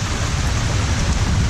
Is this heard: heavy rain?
yes